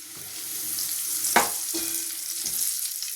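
Curry leaves dropping into hot oil with garlic and mustard seeds for a banana-date pickle, a loud crackling sizzle with sharp spitting bursts as the leaves hit the pan, continuous frying hiss underneath.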